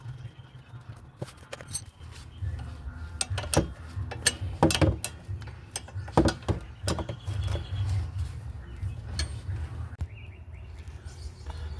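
Bolts on a 2015 Toyota Corolla front strut being tightened by hand with a ratchet, irregular close clicks and metallic taps over a low steady hum, with faint birdsong outside.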